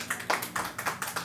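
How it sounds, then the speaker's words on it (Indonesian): An audience at an evening community discussion event applauding, producing a patter of light, uneven claps at close to medium distance, with no voices over it. "Tepuk tangan dulu dong buat kita semua,"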